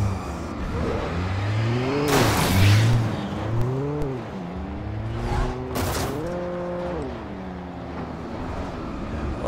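A car engine in the video game Alan Wake revs repeatedly in rising and falling surges, with gear-like pitch climbs and a couple of sharp bursts of noise.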